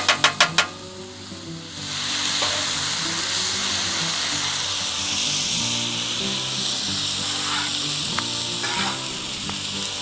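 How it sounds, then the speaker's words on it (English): Steak sizzles on a Blackstone flat-top griddle for a Philly cheesesteak quesadilla, a steady loud frying hiss that runs without a break after a few sharp scraping taps at the start. "Let's get some of the steak over here going. Kind of get it all cooking together here."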